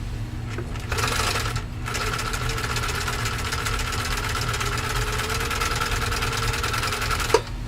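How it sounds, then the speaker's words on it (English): A Husqvarna Viking 21A sewing machine stitching thick fabric, with a steady close mechanical whir and rapid needle chatter running almost continuously and one sharp click at the end, with no talking. "Let's see how we can do with it now, and hopefully I can sew it a little bit more even than I did the last time."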